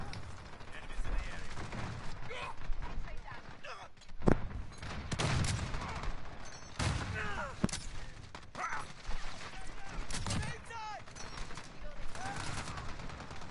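Video game gunfire during a live gaming session: repeated bursts of rapid automatic shots and single cracks, fairly loud and close, spread across the whole stretch with a voice occasionally heard among them.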